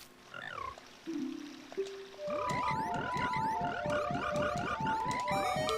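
Frogs in Zelda: Ocarina of Time, a rapid rhythmic series of bright synthetic croaks and rising chirps after a few short game tones, loud and continuous.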